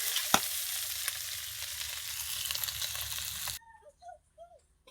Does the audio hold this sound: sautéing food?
yes